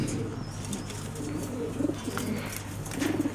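Racing pigeons, stock birds kept as a pair in a loft, coo in soft repeated low bursts over steady background noise, with several clearer coos near the end.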